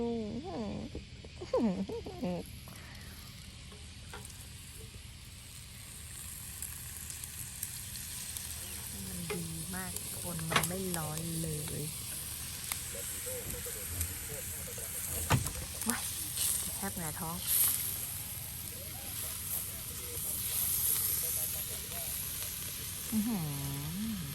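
Continuous sizzling of pork frying on a Thai tabletop grill, close and steady, with voices talking intermittently over it.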